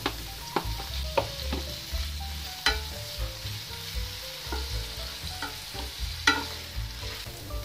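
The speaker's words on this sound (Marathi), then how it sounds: "टोमॅटो पण छान परतून घेऊया" Chopped onion and tomato sautéing in hot oil for a Marathi sandage bhaji, a continuous close sizzle broken by sharp clinks and scrapes of a spoon stirring against the pan.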